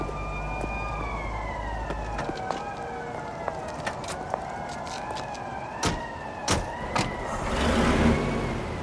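Police sirens wail in The Godfather video game as patrol cars chase a getaway car, the rising and falling tones running steadily throughout, with sharp clicks and a rushing burst of engine noise near the end.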